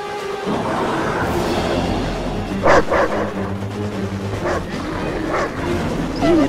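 Attack dogs bark in the Command & Conquer Red Alert 3 campaign, a few short yelps and woofs rising over dense battlefield rumble and game noise.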